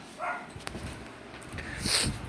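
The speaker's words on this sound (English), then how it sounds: "it's my mom's little dog" A small dog gives a few short yips and whimpers close by, brief high-pitched cries over a soft indoor background.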